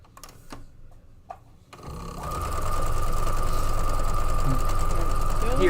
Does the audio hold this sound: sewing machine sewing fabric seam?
yes